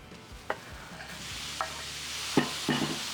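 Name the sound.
steak frying in hot oil in a pan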